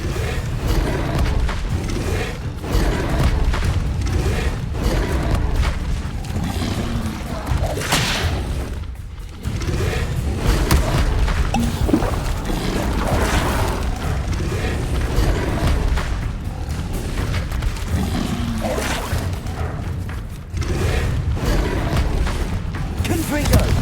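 Repeated blasting explosions of the Bombarda spell in Hogwarts Legacy, heavy booms and crashing thuds rolling through a dense, constant game soundscape, with a voice speaking intermittently throughout.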